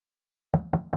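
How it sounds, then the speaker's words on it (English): Three firm, close knocks on a door in a quiet square at night ring out in quick succession after a moment of silence. "You knock, and the door opens before you've finished knocking"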